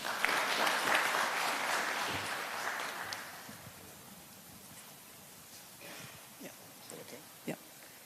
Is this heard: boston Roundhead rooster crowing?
no